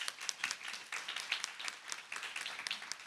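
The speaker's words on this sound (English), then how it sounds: "Round of applause for Jean." A small audience at a forum on fair rent commissions gives a short burst of scattered, fairly quiet clapping.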